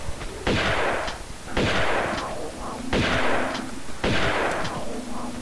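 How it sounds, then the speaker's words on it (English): Four loud, evenly spaced shotgun blasts boom from the player's weapon in Tomb Raider II's Tibetan Foothills level, each with a sharp crack and a roaring decay, with no talking. "I'm actually gonna use shotgun against them."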